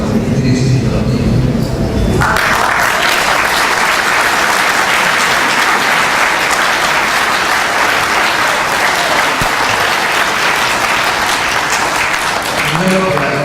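A round-table audience applauds the Ministry of Science and Technology, loud dense clapping that starts after a brief voice and fills the whole stretch.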